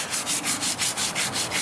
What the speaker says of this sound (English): What are you doing? Sanding.